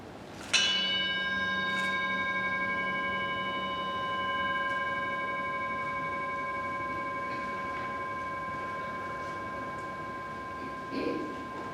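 A mindfulness bell rings once during a church service, a clear struck tone that sustains and slowly fades over many seconds in a quiet room.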